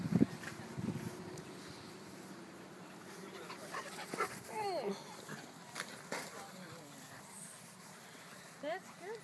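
An Australian shepherd pants and whimpers softly nearby while running and playing, with people talking over it.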